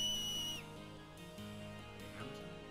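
A clear tonal whistle in Final Fantasy X, a high sustained note that drops in pitch and then returns briefly, over a soft game music backdrop with no talk.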